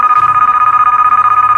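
Phone ringtone trilling in a rapid, steady pulsing pattern, loud and close, with no talk over it.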